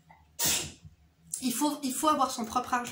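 A single sharp sneeze bursts out early, loud and close, followed by someone speaking French at a steady pace.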